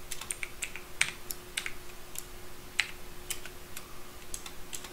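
Java code being typed on a computer keyboard: a steady run of light, close key clicks in an irregular rhythm, with an occasional louder keystroke over a faint electrical hum and no speech.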